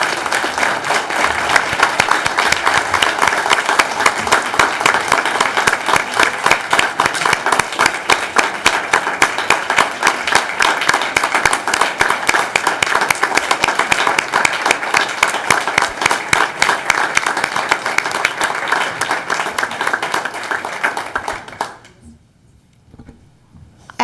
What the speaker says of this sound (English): Let's give a round of applause for these incredible students.